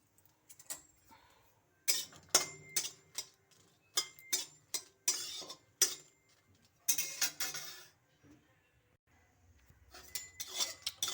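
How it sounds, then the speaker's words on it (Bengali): Three dried red chillies are dry-roasted in an empty wok, and a metal spatula scrapes and clatters against the pan in sharp, irregular bursts separated by brief quiet gaps. "এখন কড়াইয়ে দিয়ে দিব 3টে মরিচ, এটাকে বাজিয়ে নিব শুকনো খোলায়"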